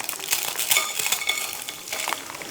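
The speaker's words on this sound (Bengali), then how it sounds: "দুটো ম্যাগি ভেজে নিচ্ছি" Two blocks of Maggi noodles fry in hot ghee in a pan, giving a steady close sizzle broken by light scraping and stirring of utensils, with no talking.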